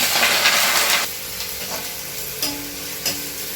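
Loud sizzling of sliced onions frying in hot oil for chicken kurma, a bright hiss that drops suddenly after a second, with soft stirring clatter afterward.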